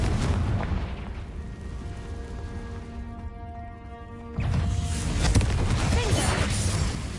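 A Confringo fire spell detonates in Hogwarts Legacy, a loud booming blast that cuts in sharply partway through, set against a dense, continuous rumble of in-game noise.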